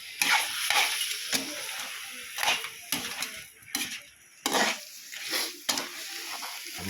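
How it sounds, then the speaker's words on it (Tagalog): Food gets stirred in a hot pan, with close, irregular scraping and clinking strokes over a light sizzle. "At haluin natin."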